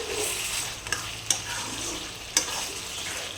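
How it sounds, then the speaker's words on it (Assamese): Duck meat frying with spices in oil over a low flame gives a steady, soft sizzle, broken by a few sharp clicks of stirring, with no talk. "মাংসখিনি একদম বহুত দেৰি ল' ফ্লেমতে ভাজিব লাগিব।"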